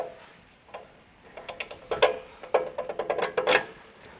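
Metallic ratcheting and wrench clicks at close range as the bottom strut bolt is loosened and removed on a 2016-2023 Toyota Tacoma during a leveling kit install, a series of quick irregular ticks that bunch up toward the end.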